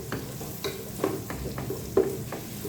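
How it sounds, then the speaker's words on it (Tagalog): Onion stir-frying for pancit bihon noodles, a constant sizzle broken by rhythmic spatula scrapes against the pan roughly every half second, close up. "Yan, nililagay ko na yung sibuyas. Tapos luto, luto, luto."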